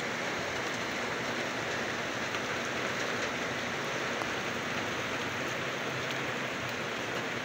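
Steady rain falling in the morning, a dense continuous hiss of drops on surfaces, even and unbroken throughout with no voices.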